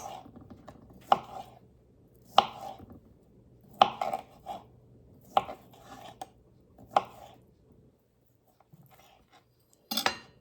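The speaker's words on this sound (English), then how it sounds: "I'm going to cut this half a smoked sausage that I have left on the bias." A knife chops through half a smoked sausage against a cutting board in about six evenly spaced strokes, close and fairly quiet, with pauses between cuts.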